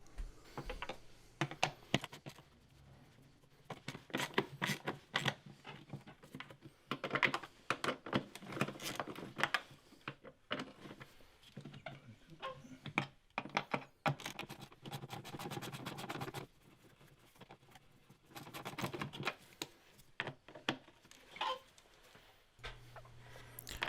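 An 8mm socket wrench ratcheting off the five air filter housing bolts on a petrol Honda CR-V with a 2-litre K20 engine, fast dense clicking runs in repeated bursts, close and fairly faint.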